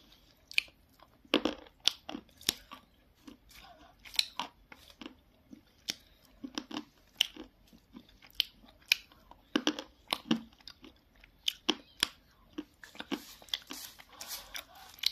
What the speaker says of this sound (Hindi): पहले थोड़ा सा खा ही लेती हूँ, बड़े टेस्टी लग रहे।